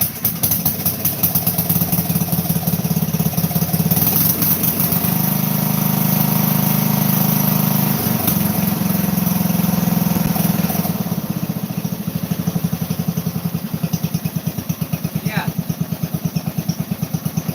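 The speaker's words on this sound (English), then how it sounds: "This is the little 12 horsepower MTV right now that's starting." A small 12 horsepower MTV engine starts up and settles into a steady, close, loud idle, its rapid chugging pulse continuing unbroken, with a slight drop in level toward the end.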